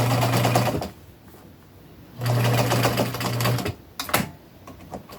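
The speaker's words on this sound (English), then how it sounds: "you want to take your time sewing with knit" Sewing machine stitching knit T-shirt fabric into a hoodie, running in two loud, steady bursts with a quiet pause between and a few handling clicks near the end.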